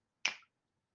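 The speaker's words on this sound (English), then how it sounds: "when you snap your fingers, it can mean so many things" A single crisp finger snap, sharp and close, standing alone in silence with a quick decay.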